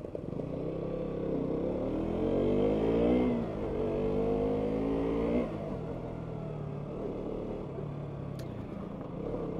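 A KTM RC 125 motorcycle engine pulls through a U-turn up close, its revs climbing, dipping and climbing again in a steady, buzzing drone with no talking.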